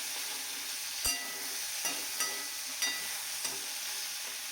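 Ivy gourd (tondli) stir-frying in oil in a pan for a spiced curry, a steady close sizzle with several sharp scraping stir strokes spaced about a second apart, no voices.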